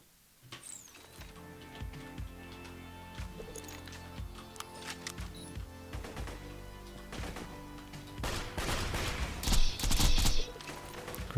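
The Hornet gun firing in Borderlands 2, a run of sharp, rapid game gunshots in uneven bursts over background music, building into denser, louder fire and impacts toward the end.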